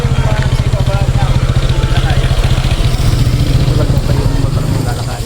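A motorcycle engine idles nearby with a steady, rapid low chugging pulse throughout, loud and constant, with the parked bike at a riverside stop up in Montalban.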